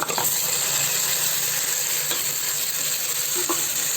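Eggplant pieces frying in hot oil while being stirred, a steady dense sizzle throughout with occasional spoon scrapes, close and fairly loud, no voices.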